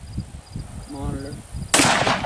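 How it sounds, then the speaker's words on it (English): A .44 handgun fired at old TVs and monitors outdoors: one loud, sharp shot cracks near the end, after a stretch of quieter rustling and a brief voice. "I wanted to take some shots at it with my 44"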